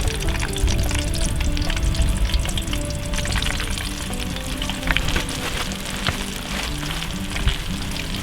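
Fish pieces fry in hot oil with a dense, steady sizzle and crackle, loud and close, with scattered pops spitting over the continuous hiss and no talking.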